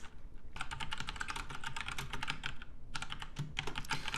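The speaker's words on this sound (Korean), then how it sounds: "이렇게 직접 타이핑 하셔도 좋고요" Rapid clicking of a computer keyboard as someone types in quick bursts, pausing briefly before resuming, close and clear with no talking.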